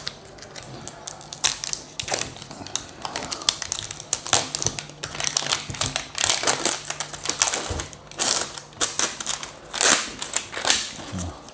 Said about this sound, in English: I'll cut this plastic off.